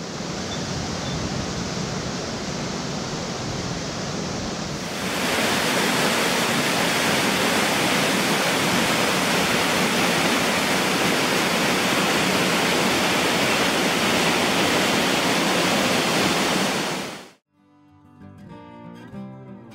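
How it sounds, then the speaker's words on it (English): A waterfall on the Milford Track in New Zealand pours over a series of falls and turquoise pools, a loud, unbroken roar that swells midway and then cuts off abruptly near the end. "The water cascades down a long series of falls and pools"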